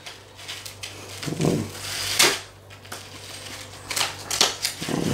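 A FIFA 365 2020 trading card blister pack being ripped open up close, with several irregular bursts of crackling plastic and tearing cardboard over a steady low background hum.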